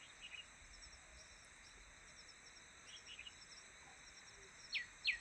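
A small bird perched in a dry treetop in Uttarakhand gives two quick, sharp high calls near the end, following faint distant chirps over a steady insect drone, with no voices.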